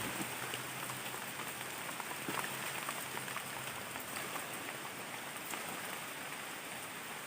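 Steady rain falls continuously, a dense hiss of drops on surfaces with no pauses, fairly close and even in loudness throughout.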